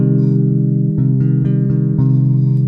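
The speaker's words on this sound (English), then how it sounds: "A minor chord sounds like this." A low minor chord on bass guitar rings out steadily, its notes sustaining together with a few soft string plucks along the way.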